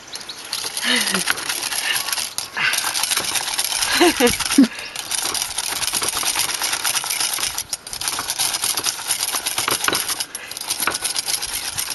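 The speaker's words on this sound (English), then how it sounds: "Egg whites don't take as long to whisk as cream, but they do take quite a long time" Egg whites being whisked for a lemon meringue pie: a steady, busy whirring and rattling that runs unbroken for the whole stretch, close and fairly loud.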